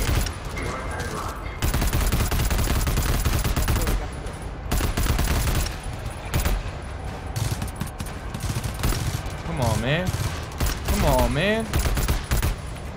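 Sustained automatic gunfire from the co-op shooter GTFO rattles in long, dense bursts through most of the span, with brief pauses, while a player talks and exclaims over the shooting.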